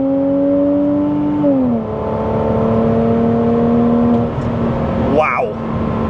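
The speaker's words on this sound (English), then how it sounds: "the sound that comes out the back of it with one of these exhausts on it" A Porsche Cayman 987 flat-six fitted with a Top Gear valved exhaust hums at a steady drone, then drops pitch as it shifts and settles into a smooth, loud cruise note, with a brief whoosh of a passing vehicle near the end.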